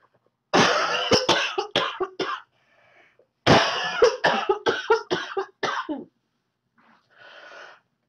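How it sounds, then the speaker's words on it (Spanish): Harsh, repeated coughing close up: two long fits of rapid hacking coughs from a person with weeks of bronchitis, separated by a pause, then quieter breathy throat clearing at the end. "Tengo semanas con tos."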